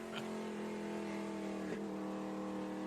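A damaged SRX race car, patched up after contact in a heat race, drones around the Nashville Fairgrounds track with a steady, tonal engine note held at mid distance.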